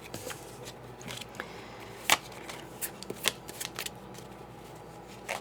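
A small deck of business-card-sized cards is shuffled and handled quietly, with soft riffling and a few sharper flicks and taps spread irregularly across the clip, no talking.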